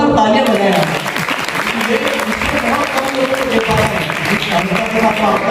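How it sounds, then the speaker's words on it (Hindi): Audience applause at a live standup comedy and poetry show, sustained and loud, with a large crowd clapping continuously throughout. "ज्यादा जोरदार तालियां बजाएं।"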